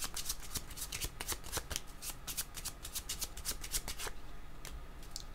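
Tarot cards shuffled by hand before a draw, a run of crisp riffling flutters and soft slaps, close and fairly quiet, with no voices.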